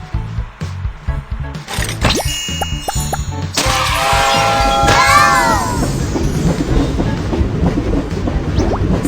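A cartoon train runs along rails with a rhythmic clickety-clack of wheels over the joints, then a burst of squealing, whistle-like tones and a louder steady rumble as it rolls on.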